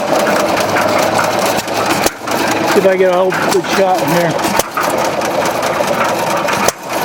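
A 1928 Hercules-built engine at a swap meet runs steadily with a rapid, even chugging close by, while someone talks over it.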